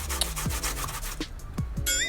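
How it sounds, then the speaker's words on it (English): Peeled pumpkin rubbed on the small side of a grater gives repeated rough scraping strokes, close and loud, in quick uneven rhythm over two seconds, with no speech. "Now that it's peeled, I'm gonna go ahead and grater it using that small side of the"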